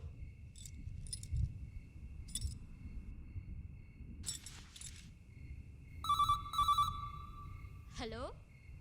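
Telephone ringing in a quiet room at night, a few short electronic ring bursts over a steady bed of chirping crickets, with a brief voice and a falling tone near the end.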